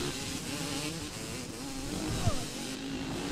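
Suzuki Cultus Pike Speed race car engine in ATV Offroad Fury 2, a steady loud droning rev with a slight rise near the end, close and continuous with no talking.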